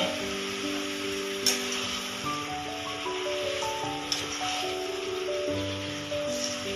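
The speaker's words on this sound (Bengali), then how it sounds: "মাংসটাকে এবারে খুব ভালো করে কষতে হবে।" Mutton sautéing (kosha) in a kadai, a soft continuous sizzle with occasional scraping stirs, running under steady background music.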